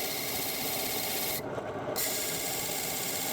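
A file rasps steadily across the teeth of a saw blade being sharpened, a continuous close gritty scraping with one short pause partway through.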